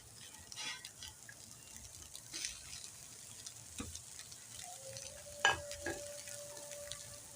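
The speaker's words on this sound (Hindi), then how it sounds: "बंद गोभी को भी हम हल्का सा रोस्ट करेंगे, बिल्कुल हम नहीं गलाएंगे। चमचा हम चलाते रहेंगे।" Shredded cabbage lightly roasting in a pan with oil, a steady close sizzle and frying crackle broken by scraping clinks of a spoon stirring it around, no voices.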